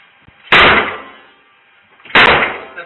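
Police forcing a door produce two heavy, close slams about a second and a half apart. Each loud impact rings briefly and then fades, with no voices heard.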